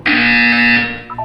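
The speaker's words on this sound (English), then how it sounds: "You will hear a buzzer." A loud electronic buzzer from the video game Portal 2 sounds once as a single steady tone held for just under a second before cutting off, with nothing else around it.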